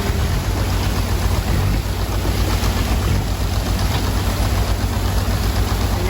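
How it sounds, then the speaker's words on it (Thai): A truck engine rumbles loudly and steadily at a sand washing site, a continuous heavy low drone with dense mechanical noise and no voices. "มันมีรถเข้ามาซื้อทราย"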